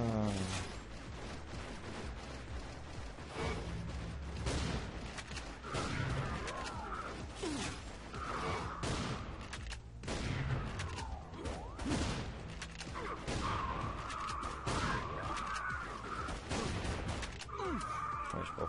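Gunfire in the shooter game N.O.V.A. 2 on iPod comes as a busy run of sharp shots and bursts, with clanks and other game effects mixed in, fairly close and continuous.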